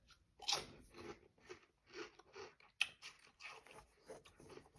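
Someone bites and chews sour cream and onion potato chips close to the microphone, with a series of crisp crunches in an uneven rhythm. No one speaks.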